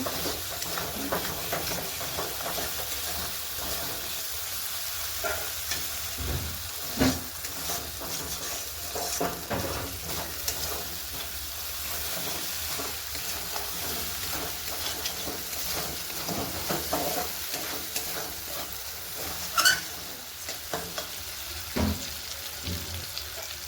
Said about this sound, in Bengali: দেখো মশলাটা কষিয়ে নিচ্ছি ভালো করে